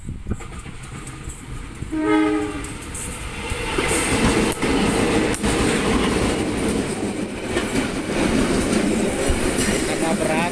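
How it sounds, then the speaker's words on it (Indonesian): A heavy local train hauled by two locomotives rumbles steadily past a level crossing, a loud continuous roar of wheels and engines with a brief horn-like tone near the start. "ada yang lihat lagi kereta api."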